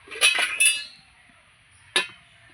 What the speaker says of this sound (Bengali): এই যে এবার ঢাকা দিয়ে সিদ্ধ করতে বসাবো